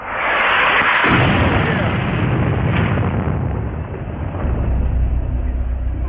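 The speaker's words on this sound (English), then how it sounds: "orders an airstrike" An airstrike explosion during Iraq War combat erupts as a loud, dense roar that rumbles on for several seconds, heavy and broad, with no speech over it.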